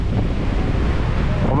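Strong wind buffets the microphone on a fishing boat at sea, a continuous loud rushing roar with low rumbling gusts throughout.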